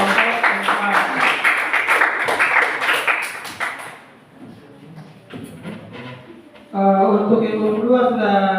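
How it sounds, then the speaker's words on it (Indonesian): A classroom audience claps for a presenting group for about four seconds with dense, lively applause, which then fades out while voices begin talking nearby. "tepuk tangan untuk kelompok 4."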